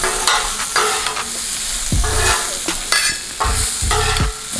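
Pepper steak meat sizzles on a Blackstone griddle, a loud close sizzle broken by repeated scraping strokes of a spatula in an uneven rhythm.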